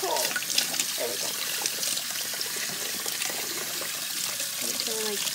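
Cold water runs steadily from a tap into a sink, a continuous hiss-like splash beneath a child's and others' voices chatting throughout.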